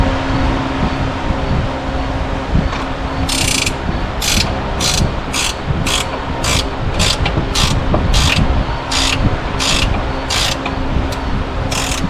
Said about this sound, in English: So we'll take that nut and bolt out.